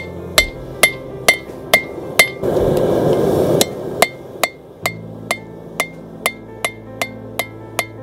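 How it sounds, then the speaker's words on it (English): Cross peen hammer blows forging veins into a hot steel leaf, sharp metallic strikes landing in a steady, evenly spaced rhythm, close and loud, with a brief burst of broadband hiss partway through. "I then turn over the hammer to this side, the cross peen side, and I start putting the veins in it by fanning it out."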